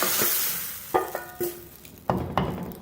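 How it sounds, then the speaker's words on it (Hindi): Steady sizzling of a hot oil tempering in a pan as dal is stirred in, with several sharp clinks and scrapes of a spoon, no voices. "थोड़ी सी दाल हम पैन में शामिल करेंगे।"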